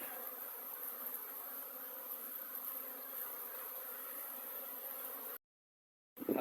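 Steady droning buzz of many Buckfast honey bees, close and continuous, cutting off abruptly near the end before another burst begins.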